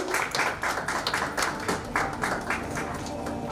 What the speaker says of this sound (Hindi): सभी तालियों से उनका स्वागत करें।